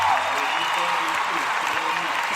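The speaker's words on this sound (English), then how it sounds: "Can we get a round of applause? Chris's dad is here." An audience claps for a guest's father at a show taping, a short dense burst of applause that starts loud and holds steady.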